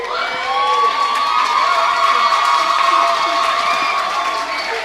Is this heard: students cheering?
yes